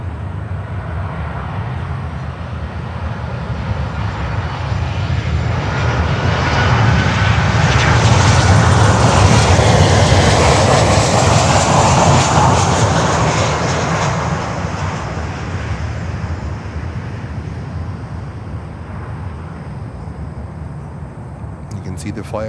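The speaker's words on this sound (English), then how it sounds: "The emergency landing is coming. It's American Airlines flight 2898." An American Airlines jet comes in for an emergency landing at Miami airport, its engine roar swelling from a distant rumble to a loud peak mid-clip before fading away, with voices murmuring underneath.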